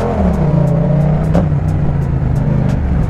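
A motorcycle with a newly fitted full exhaust system pulling away on a hot day, its engine a loud, close, steady drone with a slight rev rising and falling over a few seconds.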